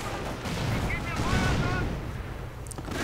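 Battle noise from the video game Company of Heroes: dense gunfire and explosions crackle and boom continuously in a short, loud burst of combat.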